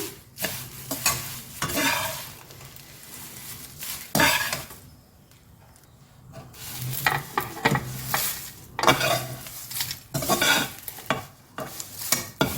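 Curry leaves sautéed in hot oil for a healthy curry-leaf powder, giving a steady crackling sizzle broken by repeated scraping stirs of a spatula against the pan, with brief quieter pauses between bursts and no talking.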